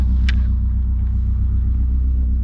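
A carbureted car's engine idling just after a slow start, a loud steady low rumble up close with one brief sharp click early on.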